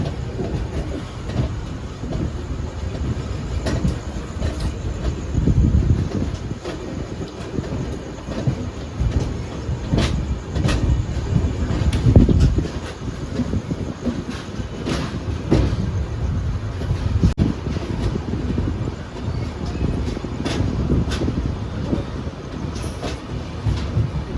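The Kanyakumari Express leaving Nagercoil Junction rumbles and rattles for a long stretch, with heavy low-frequency roar, intermittent clunks and clacks, and swelling, fading surges of noise.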